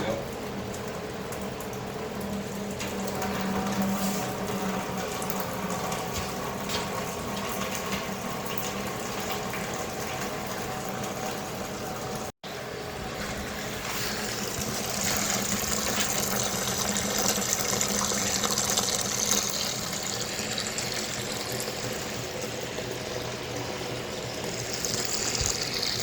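Antifreeze drains from a Ford 8N tractor, a continuous splashing, trickling flow of liquid running into a container, steady and fairly close throughout with no talking.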